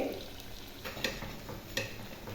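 Small punugulu fritters made from idli batter deep frying in a full kadai of oil, with a steady dense sizzle and a few sharp scraping clicks as a spoon stirs them, close and continuous.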